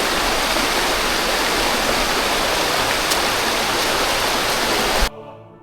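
Loud, steady rush of a forest stream flowing toward a waterfall near Kolhapur, unbroken until it cuts off abruptly near the end.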